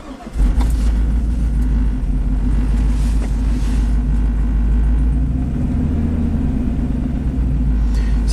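A 2003 Chevy dump truck's Vortec V8, suffering a misfire, idles close and loud with a continuous low rumble and a slightly uneven throb.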